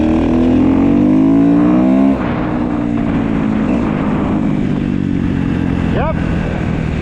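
A 2015 Kawasaki KX250F dirt bike engine runs loud and close, its pitch sliding upward for a couple of seconds, then dropping to a rough steady idle with a quick rev blip near the end.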